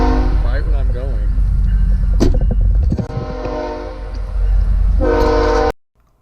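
A loud train horn blares in long blasts while heavy rail cars rumble past close by, with a voice speaking briefly over the noise before it cuts off.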